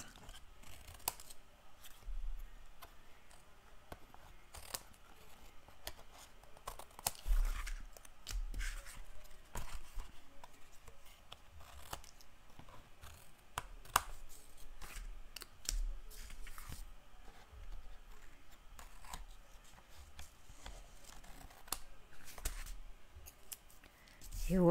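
Scissors trimming the excess edge of a paper page in a handmade birthday pocket album, a quiet run of rapid snipping and crisp clicks, close to the mic, with some soft talk at moments.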